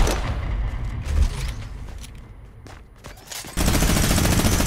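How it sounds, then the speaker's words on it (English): Pistol fire in a 1v1 shooter video game: rapid, dense bursts of shots with mechanical clatter, loud and close, easing for a moment before another heavy volley. "this is a real pistol"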